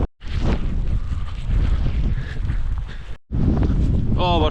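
Strong wind battering the microphone on a mountain summit during a snow storm, a loud continuous roar that briefly cuts out twice, with a faint voice under it.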